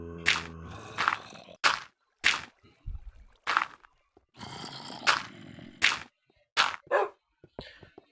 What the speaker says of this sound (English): Growling of zombies surrounded me.